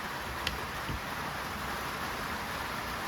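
Rain falls steadily outdoors, a faint, even wash of patter with no voices.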